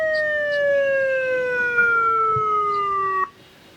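A motorcycle siren wails in a steady, slowly falling tone, loud and close, then cuts off abruptly.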